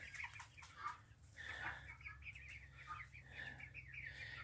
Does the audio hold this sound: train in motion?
no